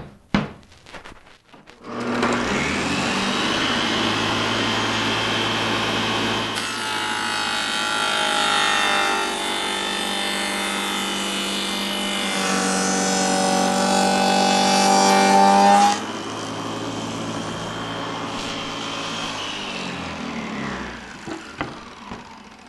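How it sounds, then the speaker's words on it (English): A lathe cuts a groove in a spinning wooden piece, giving a continuous loud grinding rasp that shifts partway through and stops abruptly near the end, close and without talk. "I'm going to spin it around, and we're going to cut the bottom groove that'll hold the bottom."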